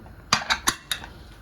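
Metal lid clattering onto a pot of mutton biryani, four quick sharp clanks close by in under a second, with no talking.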